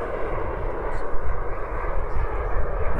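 An Aviation Design Diamond model jet roars at full throttle, a loud, steady turbine rush with a broad hiss that holds unbroken throughout.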